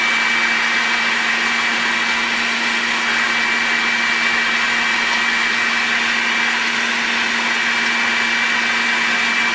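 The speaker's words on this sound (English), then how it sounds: "So all of this is going to go into the food processor." A food processor runs steadily at close range as it mixes ground meat, salt, olive oil and spices for kishke in a home kitchen, giving a continuous whirring motor drone with a constant pitch and no talk over it.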